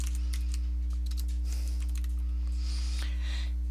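Quick taps on a computer keyboard while a folder search is typed, a short run of light clicks over a steady electrical hum, close and alone.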